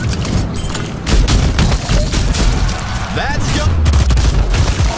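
Rapid gunfire and booming blasts in the turn-based tactical game Showgunners, loud and continuous across the whole stretch, with a brief spoken word over the shooting.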